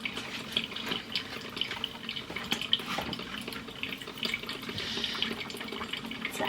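Hot water runs steadily through the lines of a new coffee machine during a cleaning cycle, a continuous close watery gush and trickle with small drips, and no talking.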